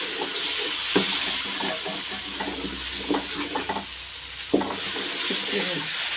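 Masala sautés and fries in a pan for an egg and potato curry, with a steady sizzle and repeated scraping stirs of a spoon against the pan, a few sharper knocks standing out, and no speech.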